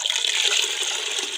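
Water and lassi pour steadily from a jug into a cooking pot for kadhi, a continuous close splashing stream for the whole moment.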